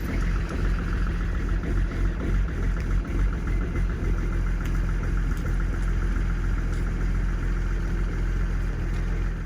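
A BMW E46 330d's M57 diesel engine idles with a steady low rumble and slight irregular stumbles from a mild misfire, close and continuous.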